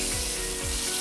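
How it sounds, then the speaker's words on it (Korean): Korean Hanwoo beef sizzling in a smoking-hot frying pan generously coated with oil and seasoned with pepper, a steady close, loud crackling fry with no voices. "지글지글지글지글 하죠?"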